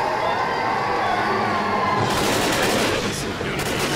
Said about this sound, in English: Alright, I'll chuck a pipe bomb.